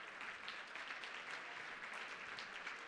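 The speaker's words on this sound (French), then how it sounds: "Une bonne main d'applaudissements encore une fois." Quiet, distant applause from an audience at a recognition gala in Charlevoix, a continuous soft patter of many hands clapping for about three seconds.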